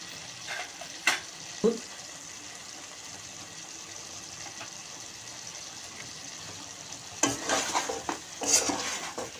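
Chicken stirred in a pan with cumin powder, coriander powder and chili gives a soft frying hiss, with a few scraping stir strokes and a louder clatter of the utensil near the end.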